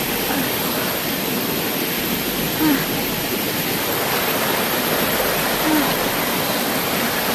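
A flowing stream gives a loud, continuous, close rush of water that stays steady and dense throughout, with no voices.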